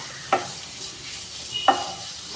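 Ginger, garlic and onion frying in a pan for Kerala toddy shop style beef fry, a steady faint sizzle with two brief stirring scrapes spaced apart.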